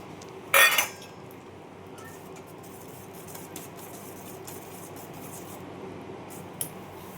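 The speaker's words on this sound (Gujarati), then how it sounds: "હવે એની અંદર આપણે નાખી દઈએ જે આ કેરીના પીસ હતા એ પીસીસ." Mango pieces spooned into chilled, setting cream for mango delight: one sharp metal spoon clink against the dish, followed by faint soft handling and a quiet room.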